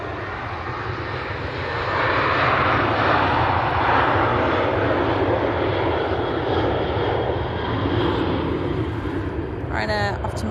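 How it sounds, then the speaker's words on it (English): An Aer Lingus airliner from JFK arriving at Manchester Airport gives a loud, sustained jet engine roar that swells and holds steady, with voices talking faintly at the end. "It's Aer Lingus from JFK"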